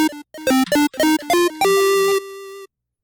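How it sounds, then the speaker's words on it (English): A chiptune synth voice from the 3xOsc plugin plays a short run of bright, buzzy notes, and the final sustained tone repeats once as a fading echo before silence. "like, it echoes once."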